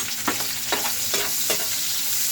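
Garlic and onions being sautéed in a pan, with a steady sizzle and a few evenly spaced stirring scrapes, close and continuous.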